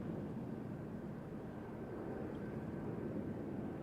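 An EasyJet airliner at Amsterdam Schiphol produces a steady, fairly faint jet rumble at a distance, an even broadband drone with no talk over it.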